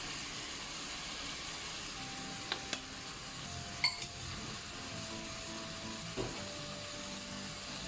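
Chopped vegetables with celery, bay leaf and Italian herbs sautéing in a pan for beef bolognese: a quiet, steady sizzle with a few light stirring clinks and scrapes, no talking.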